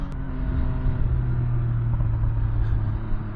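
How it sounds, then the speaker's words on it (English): A steady, deep exhaust rumble from a 2023 MV Agusta Brutale 800RR motorcycle with three exhaust outlets, close and continuous, holding an even throaty drone throughout with no pauses. "Little burble there. It's got that sick three exhaust points"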